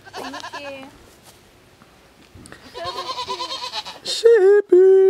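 Goats bleat close by during a day trip in Napa Valley, with a couple of wavering calls at the start and louder bleats near the end, mixed in with people talking.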